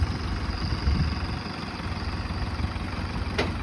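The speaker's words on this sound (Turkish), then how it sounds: "Evet gördüğünüz gibi 654-77 model traktör rahatlıkla çalıştırıyor." A 654-77 model tractor engine idling steadily, a dense low rumble with a continuous mid-range drone and constant vibration, close and loud with no talk.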